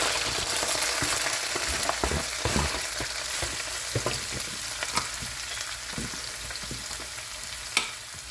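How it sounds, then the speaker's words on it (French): Chopped onion poured into a hot pan with oil and vinegar, frying in a dense, close crackling sizzle with scattered pops and stirring clicks, steady throughout without talking. "Et je verse directement l'oignon."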